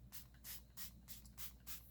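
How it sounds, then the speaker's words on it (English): Five short, quiet spritzes of alcohol from a spray bottle onto resin, evenly spaced, each a soft hiss with brief pauses between. "I'm just going to spray this with some alcohol."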